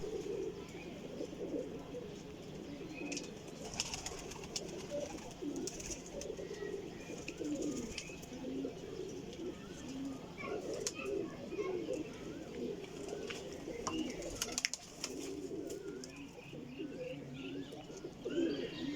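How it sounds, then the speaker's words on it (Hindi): Jaldar breeder pigeons coo steadily in a loft, soft repeated low calls layered with scattered chirps and rustling, continuous and fairly near throughout. "ए माशाल्लाह मिस्सा जालदार कबूतर जे।"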